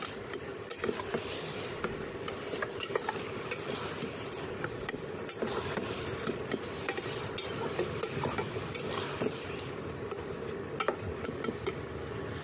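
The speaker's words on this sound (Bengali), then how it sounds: "ধনে গুঁড়ো জিরে গুঁড়ো দুটো আমি এর সাথে অ্যাড করছি। অ্যাড করে এটাকে খুব ভালো করে নেড়ে নিতে হবে।" Mashed eggplant bharta with ground coriander and cumin is stirred in a pan on a rooftop, a steady low sizzle under repeated scraping and clicking utensil strokes throughout.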